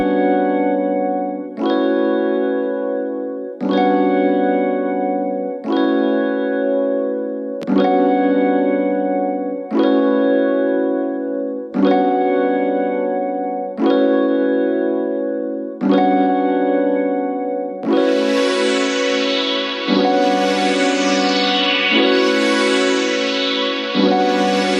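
A melody built in FL Studio layers a bell, pluck or piano tone over a sustained pad, playing steady repeated chords in even phrases with echo, and bright sweeping layers join near the end.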